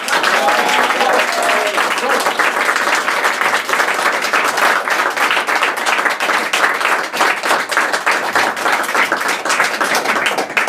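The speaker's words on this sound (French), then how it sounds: "Je vous demande d'applaudir donc Eric." A theatre audience applauds a performer in Aix-en-Provence, producing dense, loud clapping that holds steady for about ten seconds.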